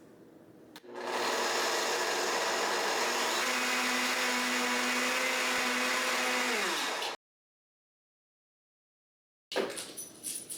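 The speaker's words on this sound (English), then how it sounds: "we're going to put them in our blender" A blender grinding rolled oats into flour kicks on and whirs loudly and steadily for about six seconds, its pitch shifting as the oats break down, then cuts off abruptly.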